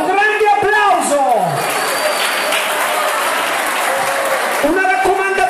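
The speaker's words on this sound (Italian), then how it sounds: "Un grande applauso." Audience applause for a pair of sport dancers at a restaurant performance, a steady broadband clapping wash bracketed by a voice speaking over a PA at the start and end.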